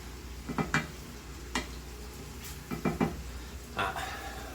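Cabbage, onions and seasoning being stirred in a pan, with a handful of soft scraping strokes at an irregular pace over a low, steady background.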